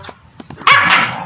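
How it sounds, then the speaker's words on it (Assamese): A dog gives a few faint yips, then one loud, close bark that rings out on its own. "কুকুৰে ফুকছি কিন্তু"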